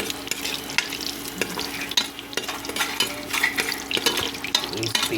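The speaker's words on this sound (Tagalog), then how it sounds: "bigisa na tayo. Ilagay ko na yung luya." Ginger frying in reused oil left from crisping fish heads, a dense steady sizzle with repeated scrapes and clinks of a spatula against the pan, close and loud throughout.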